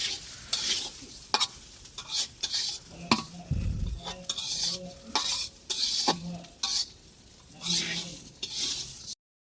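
Cooked pulao rice stirred in a pot, a spoon scraping and knocking against the metal in uneven bursts over a faint sizzle, with a brief low thump midway and a few voices in the background.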